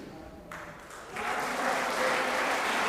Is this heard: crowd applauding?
yes